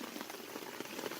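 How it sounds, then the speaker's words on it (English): Medium rain downpour falls steadily outdoors, a faint continuous hiss of drops on surfaces with no break and no voices. "You can see it's about a medium downpour right now."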